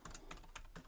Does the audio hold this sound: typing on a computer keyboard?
yes